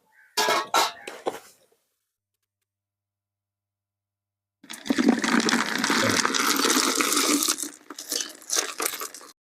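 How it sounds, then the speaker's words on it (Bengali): Boiled river snails and their hot water are poured out of a pot, giving a loud, steady rush of splashing liquid that lasts several seconds after a brief earlier clatter and a silent pause. "আমার গুগলিগুলো সবগুলো সেদ্ধ হয়ে গেছে। তাই এবার আমি ঢেলে নেব।"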